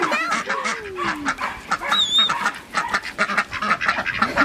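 Ducks quack and chatter close by in a continuous, busy stream of calls, with a higher bird squeak and soft rustling among them.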